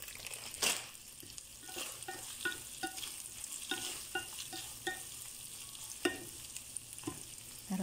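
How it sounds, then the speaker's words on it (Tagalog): Leftover dish being stirred into macaroni in a sizzling pan, soft scraping strokes of a utensil repeating at an irregular pace over a quiet, steady frying hiss, with an occasional louder clink. "Gagawin kong ganito para ihalo namin dito sa makarona."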